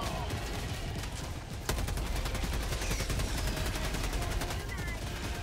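Sustained rapid machine gun fire in the video game Helldivers 2, a dense, loud stream of shots that starts up partway through and continues without pause to the end.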